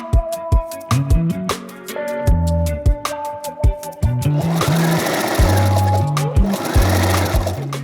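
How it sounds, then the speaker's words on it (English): A home sewing machine stitches fabric for a handmade garment with a pocket and waistband, running in loud close bursts of rapid mechanical stitching that start and stop, then a longer steady run, with faint voices underneath. "I've been sewing so much more now."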